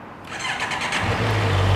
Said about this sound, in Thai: เดี๋ยวมาฟังเสียงท่อคันนี้กัน